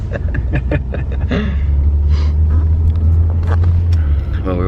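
A family car accelerates hard then brakes fully during a tyre grip test, a steady low engine and road rumble running throughout beneath close talking inside the car.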